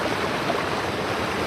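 A river flows through a scenic hilly area in Assam with a steady, dense rushing of water, close and continuous, with no voices.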